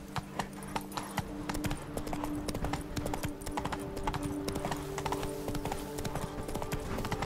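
Hooves of Roach, the horse in The Witcher 3: Wild Hunt Blood and Wine, clip-clopping in a quick, regular trotting rhythm of sharp hoof strikes over a soft game ambience and musical tones.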